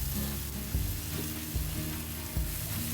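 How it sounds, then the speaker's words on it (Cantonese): Chicken pieces fry slowly in plenty of oil for Kung Pao chicken, giving a loud, steady sizzle broken by a few brief stirring scrapes, with no talking. "跟住慢慢煎下佢"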